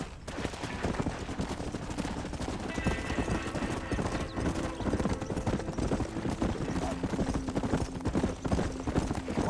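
Horses ridden at speed in the video game Red Dead Redemption give a steady, dense clatter of hooves, mixed with bursts of gunfire and a whinny over a busy game soundscape.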